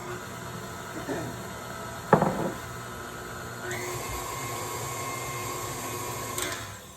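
Electric stand mixer beating homemade double chocolate chip cookie dough, a steady whirring hum with a clatter near the start and a pitch shift partway through.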